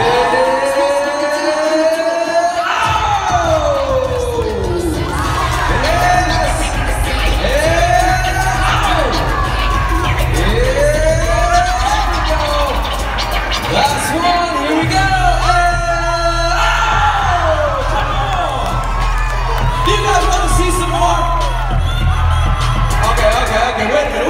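Crowd at a Special Olympics Minnesota event with the Crunch mascot performing dunks, cheering, whooping and yelling loudly and continuously, with swells of noise over a steady low rumble and an amplified announcer.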